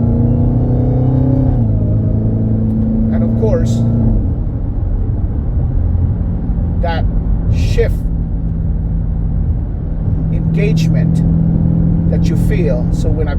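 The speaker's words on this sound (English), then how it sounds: "like downshift like that, there's a buildup. There's that crescendo buildup" A gas-powered car's engine note swells and rumbles as it downshifts with the paddle shifters, a loud low drone rising in pitch in steps, with wind and cabin noise and occasional faint clicks.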